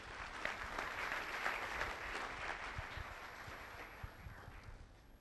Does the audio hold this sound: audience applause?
yes